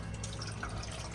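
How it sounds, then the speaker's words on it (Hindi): Water runs from a freshly opened tap on a rooftop, a steady, faint hiss of flowing and splashing water lasting about a second with no pauses. "नलका खोलो, नलका खोलें"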